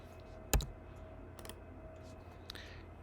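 A single crisp mouse click rings out close by while working in edit mode of a 3D modelling program, followed by a couple of fainter clicks over a quiet room hum.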